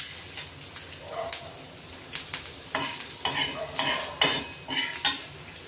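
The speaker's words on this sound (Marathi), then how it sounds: "कांदे भाजायला ठेवले बघा, मी तव्यावरच कांदे भाजून घेते" Onions roasting on a griddle, a low sizzle broken by repeated scraping and stirring strokes at an uneven rhythm.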